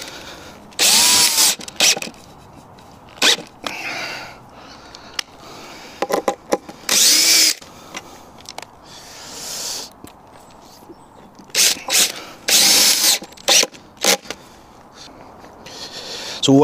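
Power drill driving bigger screws through sawhorse legs in a workshop, with repeated short bursts of whirring, loud and close, separated by pauses and small handling clicks.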